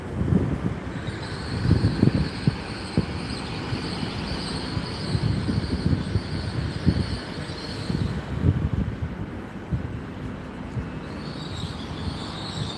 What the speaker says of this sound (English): Train's still coming to a halt